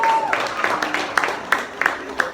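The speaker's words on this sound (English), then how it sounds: "Give yourself a round of applause." A small audience at a community gathering claps in a thin, scattered round, with a few sharp individual claps standing out, while speech carries along underneath.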